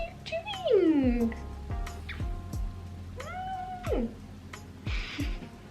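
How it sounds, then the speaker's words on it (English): A little kitten indoors gives several clear meows, some drawn out and others short, close by. A person speaks over and between the cries. "Got a little kitten trying to scratch everything."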